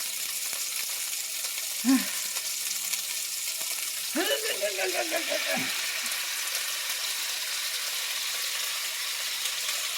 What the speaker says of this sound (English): now I'm going to add my ginger lime sauce